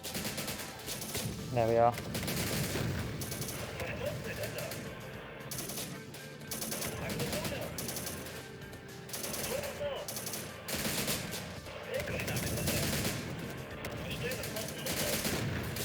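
Rapid automatic gunfire in the Syrian Warfare war game during an urban battle, continuous dense bursts and rattling volleys filling the whole stretch, with someone speaking briefly over the shooting.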